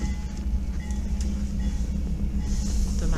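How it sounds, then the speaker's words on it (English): A train rolls past during a snowstorm, a steady low rumble with faint rail clatter holding evenly throughout, in the background of a snowy outdoor scene with no clear talk. "There's the train passing."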